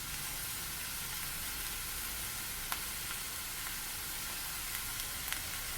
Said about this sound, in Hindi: इसको हम अच्छी तरह भून लेते हैं